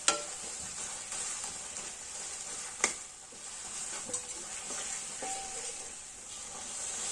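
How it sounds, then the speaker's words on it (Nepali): Tomatoes cooking in a pan for a Nepali kinema curry hiss and sizzle steadily, broken by a few sharp clanks as a ladle mashes them. "मजाले कुच्याउनुपर्छ डाडुले टमाटरहरूलाई।"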